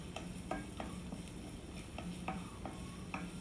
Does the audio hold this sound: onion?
yes